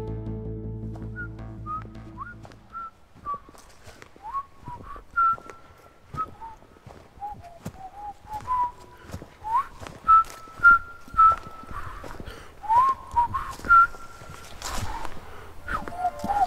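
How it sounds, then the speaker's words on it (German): Someone whistles a cheerful, wandering tune of short and held notes, fairly close, with light tapping and shuffling underneath, in a German radio-play horror story set in a small wood. "Erst als er in der Ferne ein fröhliches Pfeifen hörte,"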